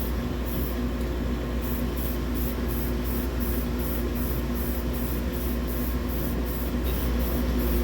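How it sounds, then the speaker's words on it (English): Aerosol can spraying flat black primer in heavy coats onto a guitar body built from automotive parts, a steady loud continuous hiss with a rhythmic pulsing in the high end, alone with no talk. "I'm going to start with this just a flat black primer, and probably put 3 heavy coats on this thing."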